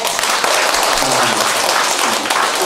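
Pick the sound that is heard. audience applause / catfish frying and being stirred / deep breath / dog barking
audience applause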